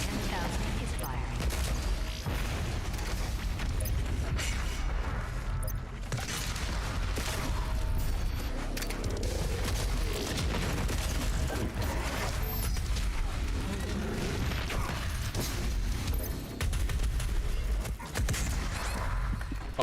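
The BFG 10,000 firing in DOOM Eternal on Nightmare difficulty: a dense, unbroken wall of booming blasts and crackling impacts that runs loud throughout, with some talk mixed in underneath.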